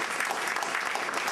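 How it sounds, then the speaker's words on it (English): A conference audience breaks into dense, sustained applause, many hands clapping at once in a steady wash of sound. "Can we give them a round of applause?"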